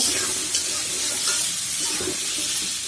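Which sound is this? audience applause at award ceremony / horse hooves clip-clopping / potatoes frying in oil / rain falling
potatoes frying in oil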